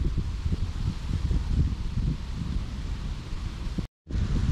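Steady wind blows outdoors at the water's edge, buffeting the microphone with a constant rough roar. A brief dropout interrupts it near the end.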